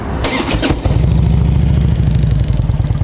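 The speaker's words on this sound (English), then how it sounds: "Bike pops right off. Got a good deep popping sound to it." Harley-Davidson Road King Classic FLHRC motorcycle engine cranks briefly, then fires up and settles into a loud, deep, steady popping idle, heard up close with no talking.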